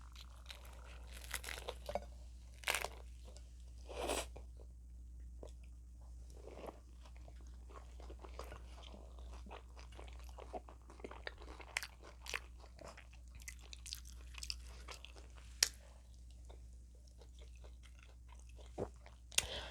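Close, quiet chewing and crunching on chicken tacos, with soft irregular bites and mouth sounds over a low steady hum and no talking.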